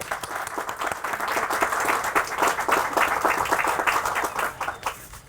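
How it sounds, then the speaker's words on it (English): Steady applause from an outdoor audience at a high water mark sign unveiling by a river park, clapping dense and moderately loud for about five seconds before thinning toward the end. "If you could please all give a round of applause for these people."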